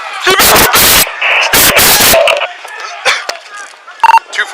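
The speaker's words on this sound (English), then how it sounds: "Shots fired, shots fired." Gunshots fired during a police confrontation: a few loud, sharp bursts in quick succession amid shouting voices and radio chatter, with clipped, blown-out reports close to the microphone.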